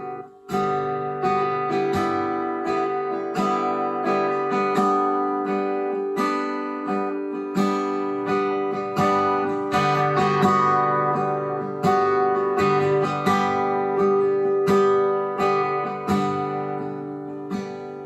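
A picked guitar riff of clear, ringing single notes in a steady repeating pattern, played alone with no voices.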